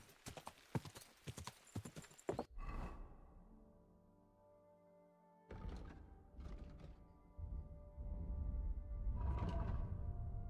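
Rhythmic clip-clop of horse hooves in Kingdom Come: Deliverance II, fairly close, with a few heavier thunks and a brief stretch of steady ambient tone between bursts of hoofbeats.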